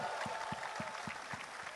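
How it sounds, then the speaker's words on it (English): Faint applause for an army of musicians at a large concert, a steady distant wash of clapping from a big crowd. "a big round of applause for this army of musicians here"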